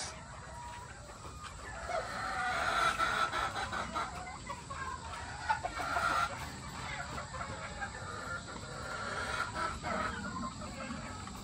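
Chickens in a poultry farm in Batangas cluck and squawk continuously in a dense, noisy flock, with occasional louder calls rising over the steady din at moderate distance.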